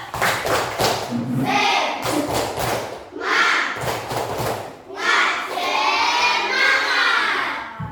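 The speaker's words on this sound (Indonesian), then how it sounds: "Coba dulu tepuk semangat lah." Indonesian schoolchildren in a classroom perform a rhythmic spirit clap, loud bursts of clapping and thumping in short patterned phrases, with children shouting along between the beats.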